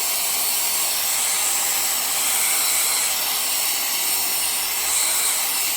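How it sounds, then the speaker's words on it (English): A K&F Concept BS500M electric air duster runs in blow mode with a steady, loud, high-pitched rushing whine that holds constant for nearly six seconds, close up and alone. "Now it's back in blow mode. And you can blow it off."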